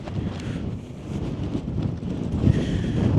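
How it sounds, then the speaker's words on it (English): Strong wind gusting around a tent at a winter campsite, a loud, close rushing roar buffeting the microphone and building toward the end. "it is blowing a hoolie"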